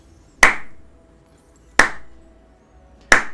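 Three sharp, widely spaced single claps in League of Legends, played as a slow, mocking clap emote; each is crisp and loud with a short decay, spaced over a second apart with near silence between.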